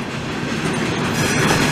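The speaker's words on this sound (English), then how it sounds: "Ben actually says this train comes from the west coast, from the prairies." A CP freight train rolls past in Delson, Quebec, a loud, steady rumble of wheels and cars with faint rhythmic clatter, close by and without voices.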